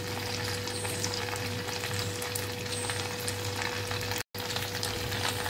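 Vadis of semolina and raw potato shallow-frying in a pan, giving a continuous, even crackling sizzle that holds steady throughout with a faint low hum beneath and one very brief dropout near the end.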